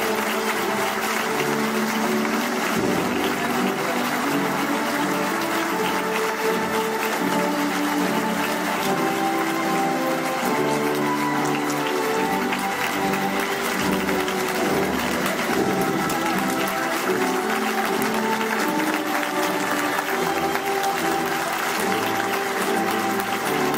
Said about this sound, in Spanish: Recibamos de pie y con un fuerte aplauso a estos nuevos profesionales